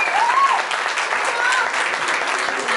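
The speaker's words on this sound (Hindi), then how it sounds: "एक बार जोरदार तालियां इस उम्र के लिए" Strong applause rolls through the audience for a young singer, a continuous wash of clapping at even loudness with a voice faintly carrying over it.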